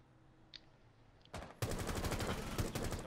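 Automatic gunfire in Rainbow Six Siege breaks out after a quiet moment as a loud, rapid burst of shots that continues to the end.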